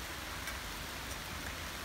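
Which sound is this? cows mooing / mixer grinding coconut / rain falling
rain falling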